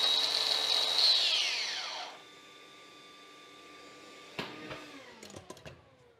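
A Dewalt 54V XR cordless wall chaser with a vacuum attached gives a short burst of high whirring that spins down over about two seconds. The vacuum then hums on alone until a few sharp clicks and knocks.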